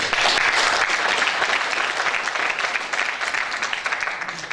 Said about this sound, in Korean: 우리 임원진들에게 앞으로 더 잘해라고 박수 한번 보내주십시오.